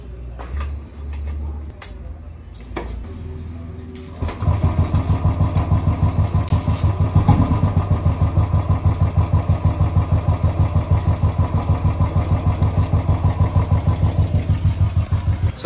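A Royal Enfield motorcycle is cold-started and settles into a steady, loud, close thumping idle that continues for over ten seconds, after a few seconds of quieter handling noise, with no talking.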